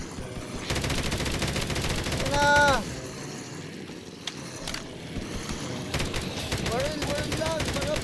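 Rapid gunfire in the Minecraft video game comes as bursts of sharp, clicking shots in a fast rhythm, fairly quiet overall. Players talk over the shooting in between bursts.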